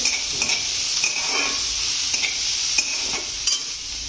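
Chopped onions sautéing in a pan for aloo paratha filling, a steady close sizzle with soft stirring scrapes recurring every second or so, no voices.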